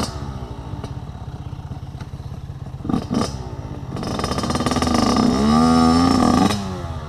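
Yamaha dirt bike engine (YZ85 or YZ250F) revving on a hill climb: a loud, close buzzing two-stroke-style idle that climbs into a sustained high rev, then drops back.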